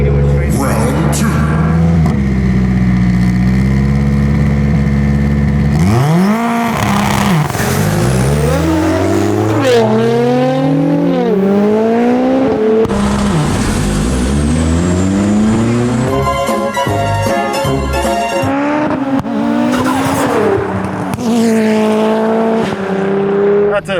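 A 700hp Nissan GT-R and a 675hp Mitsubishi Evo X, both all-wheel drive, roar loudly at close range, with engines revving hard and climbing through rapid gear shifts as the race runs on.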